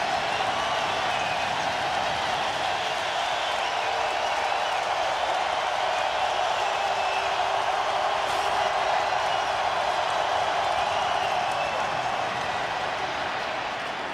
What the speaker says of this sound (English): the crowd's back into it